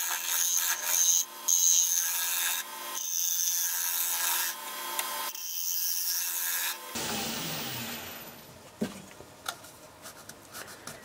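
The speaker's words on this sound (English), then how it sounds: "I'll just go in there with the top of the nose of the scraper and just take that wood out." A woodturning scraper's nose cuts wood out of a bowl spinning on a lathe, a steady rasping scrape that breaks off in short pauses, then turns rougher and more uneven, with scattered knocks near the end.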